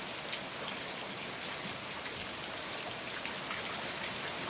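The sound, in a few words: rain falling outside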